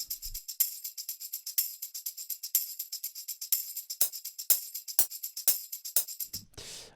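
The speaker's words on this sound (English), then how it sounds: "shaker loop here that is kind of sitting on top of everything" Shaker loop in an FL Studio production, a bright, crisp rhythmic shuffle repeating steadily high up, with occasional sharp hits punctuating the groove and a brief low thump at the start and a burst near the end.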